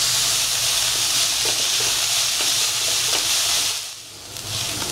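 Onions sautéing with salt in a pan for dry gobi manchurian, a loud, steady hissing sizzle that briefly dips in volume near the end before returning.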